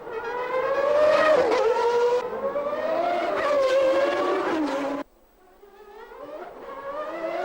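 Mansell's Ferrari racing car on a qualifying lap, engine screaming loud and close with rising and falling revs, then dropping away sharply to a fainter, more distant whine as it passes.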